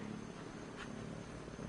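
A pet cat settled on a lap purrs softly and steadily at close range, a low continuous rumble with no voices over it.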